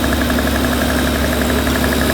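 A drift car engine idling close by with a steady rhythmic knock and a hissing, breathy vacuum-like whoosh underneath.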